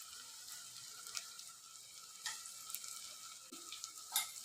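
Mustard seeds crackle and sizzle in hot oil, with green chillies already in the pan, while cooking a cabbage tomato curry; a faint, steady fizz with sharp little pops and a few stirring scrapes.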